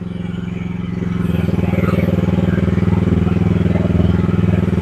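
A Chinese gasoline one-ton mini loader engine starts and runs with a close, loud, steady chugging drone that firms up after the first second.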